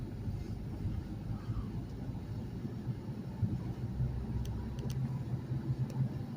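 A car driving at night, a steady low engine and road rumble from inside the cabin, continuous and moderately quiet, with a few faint high clicks.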